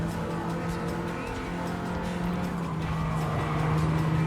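A Volkswagen Golf race car in Gran Turismo 7 pushes to overtake, its steady engine drone rising in pitch over a continuous bed of tyre and track noise, loud and close throughout.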